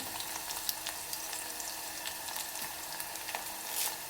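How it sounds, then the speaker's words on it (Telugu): Onions and green chillies fry in an oil tempering for potato-tomato curry with a quiet, even sizzle and small scattered pops, with no talking. "మనకి పోపు అనేది అయితే మంచిగా వేగిపోయింది చూడండి ఆనియన్స్ పచ్చిమిర్చి అయితే వేగిపోయింది"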